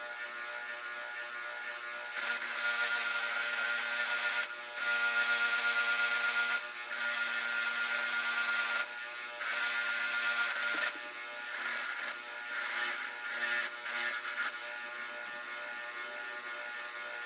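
Wire brush scrubbing rust and crud off an octagonal screwdriver shank and ferrule, a bright, harsh whirring scour in repeated bursts of one to two seconds separated by short pauses.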